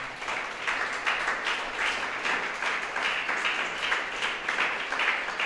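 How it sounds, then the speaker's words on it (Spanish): A church congregation claps steadily for the Lord during a service: dense, even applause from many people at a fairly close, moderate level, continuing without a break for over five seconds. "Dele un fuerte aplauso al Señor"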